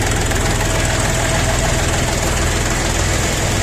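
A small KM385 diesel engine on a mini tractor idles loudly up close at 800 rpm, a steady knocking rumble with even pulses and no break.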